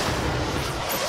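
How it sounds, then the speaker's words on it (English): An odd grenade launched in the video game Control, heard as a dense, continuous booming rumble for about a second, fairly loud and with no voices over it. "Come on, fire that weird grenade."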